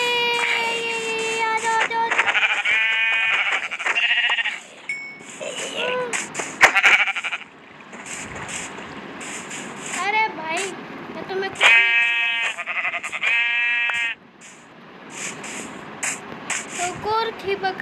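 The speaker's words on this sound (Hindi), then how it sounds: "तो एक और बकरी थी, वो शायद डर के भाग गई" Minecraft goats bleat repeatedly during survival gameplay, with wavering, nasal cries in several clustered bursts alongside game sounds and a voice talking.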